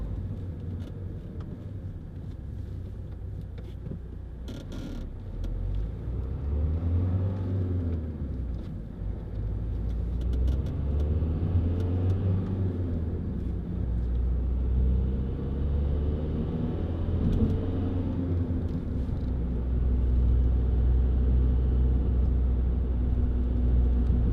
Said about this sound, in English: Coming up that hill, you can tell how well this car pulls.